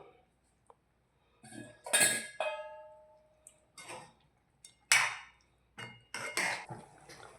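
A metal spoon scrapes and clinks against a pan while chili is mixed into frying vegetables for a Pahadi-style lunch, a string of separate sharp clatters and knocks with quiet gaps between them.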